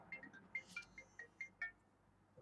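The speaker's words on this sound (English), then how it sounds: "Somebody's ringing me." A phone rings with a repeating electronic ringtone made of short bright chirps in a steady pattern, fairly quiet against a faint room background.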